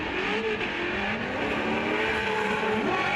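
BMW drift cars battling at a Formula Drift competition, engines wailing at high revs with wavering pitch and tire noise, loud and continuous throughout.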